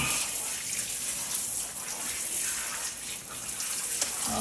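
Steady water runs and splashes into a bath while a dog is rinsed, a continuous close rushing hiss with no talking.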